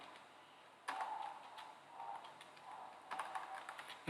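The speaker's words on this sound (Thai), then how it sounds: "แล้วก็พิมพ์คำว่าสแกนนะครับ" Soft typing on a computer keyboard, with scattered faint key clicks in small clusters, quiet and close, with no talking.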